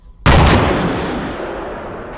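A single heavy rifle shot in a military shooter game booms close and loud, then its echo rolls off in a long decaying tail.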